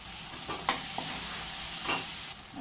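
Chopped tomatoes meet spices frying in a pan for a gawar (cluster bean) vegetable dish, giving a steady, close hiss of sizzling with a few soft stirring knocks and scrapes, no voices.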